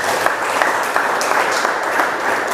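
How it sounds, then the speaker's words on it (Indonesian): A church congregation breaks into loud, continuous cheering and applause, a dense crowd roar with clapping throughout. "Berikan sorak-sorai buat Tuhan."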